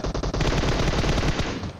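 Automatic gunfire in the shooter game PUBG Mobile: rapid bursts of shots in a fast, even rhythm, briefly broken at the start and then sustained, moderately loud, with no talking.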